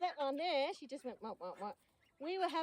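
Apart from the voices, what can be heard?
None of the usual background noises is heard.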